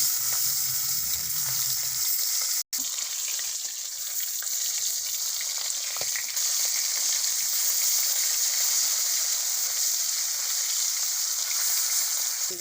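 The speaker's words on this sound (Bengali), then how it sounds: "মাছটা ভেজে নেব।" Pieces of rohu fish, coated in salt and turmeric, fry in hot oil in a wok with a continuous, even sizzle and faint crackling, heard close and steady throughout apart from one brief dropout.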